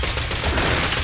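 Dense, sustained gunfire from a shooter character in the video game Zenless Zone Zero, a loud continuous rattle of overlapping shots with no pauses.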